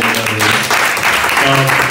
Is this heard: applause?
yes